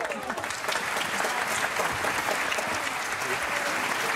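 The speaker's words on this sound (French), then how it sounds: "Monsieur Nisnardi, nous sommes prêts à vous applaudir." Loud, steady applause from a crowd fills the whole stretch, a dense wash of many hands clapping continuously.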